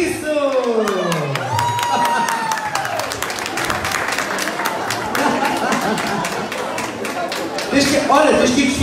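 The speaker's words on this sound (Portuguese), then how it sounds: "Ai, salve de palmas para o nosso amigo Carrapiço!" Crowd applause at a carnival costume contest in Agualva de Cima, steady clapping and some cheering lasting throughout, with a voice and musical tones over it.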